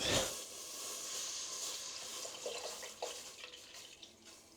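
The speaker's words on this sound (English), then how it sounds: "Pour the whole milk in there." Half a gallon of whole milk poured into a pot for Filipino maja blanca, a continuous close liquid splashing and hissing stream that starts abruptly and gradually softens.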